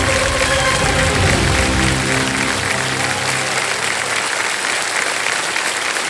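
Studio audience at a televised quiz show applauds a contestant, dense sustained clapping at full strength throughout, with a musical sting layered under the opening seconds.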